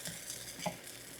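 Corn cake flipped and frying in a skillet: soft, steady sizzling heard close and faint for about a second, with a light scrape partway through.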